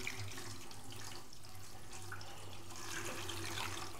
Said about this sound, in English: we'll go ahead and add our water here